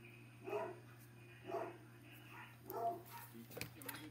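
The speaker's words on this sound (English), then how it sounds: "My dogs are barking." Household dogs barking in short bursts about once a second, distant and muffled behind a steady indoor hum.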